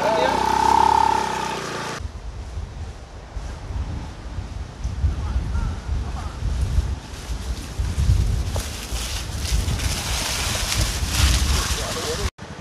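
Sea surf along a coast reached through forest, a broad continuous rumbling wash heavily mixed with wind buffeting the microphone, after a brief burst of voices at the start.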